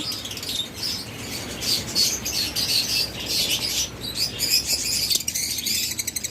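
A pair of pet lovebirds chirping steadily in quick, bright bursts, nearby and fairly loud, with a faint insect-like buzz in the background and no talking.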